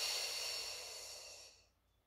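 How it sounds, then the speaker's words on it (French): A steady, close breath during a Pilates abdominal exercise, a long airy exhale that softly fades out after about a second and a half, with no talking. "Continuez à respirer."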